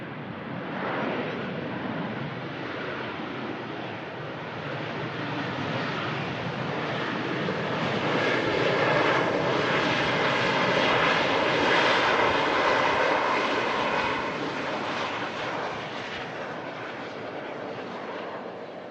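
Corendon Airlines airliner arriving on runway 23 right, a steady broad engine roar that swells and peaks midway before easing, heard from a spotting position with wind noise and no talk.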